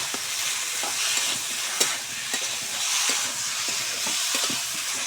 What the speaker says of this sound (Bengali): আলু দিয়ে দিলাম, আর দিয়ে দিচ্ছি কেটে রাখা ঝিঙে। খুব ভালো করে আমি কষিয়ে নেব।